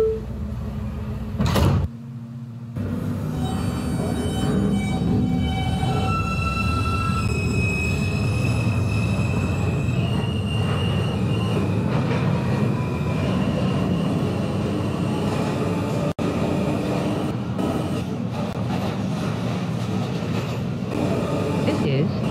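A 207th Street-bound A express subway train runs in a Roblox game: a steady loud rumble and whine of rolling cars goes on throughout, with a brief door clunk near the start and a recorded voice announcing over it.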